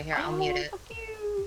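A pet cat meows several times in short rising calls, close by and fairly clear, while a person talks over it.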